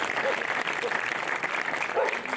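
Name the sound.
audience applause at the St Erige festival in Auron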